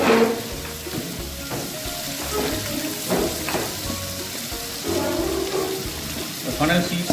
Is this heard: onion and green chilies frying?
yes